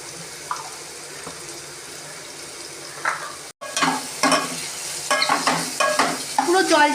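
Mushrooms sizzle in ghee for a milk-based mushroom payesh, a soft steady frying hiss broken after a brief pause by repeated scraping stirs of a spoon in the pan, close and without talk.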